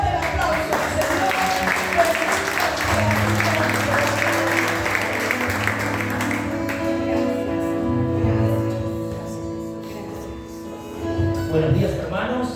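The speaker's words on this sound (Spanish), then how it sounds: "Fuerte el aplauso al Señor." A church congregation claps for the Lord in a sustained, dense burst of applause that fills the room, thinning after several seconds as music and a voice carry on beneath it.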